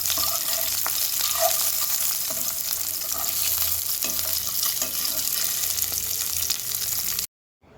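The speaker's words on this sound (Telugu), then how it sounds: "ఆ ఎగ్స్ అన్నీ కూడా ఇలా రెండు విధాలుగా ఇలా కట్ చేసేసుకొని ఇందులో వేసి బాగా ఫ్రై చేసేసుకోండి" Boiled egg halves fry in hot oil with a steady, close sizzle and faint crackles that carry on without pause, then the sound cuts off abruptly near the end.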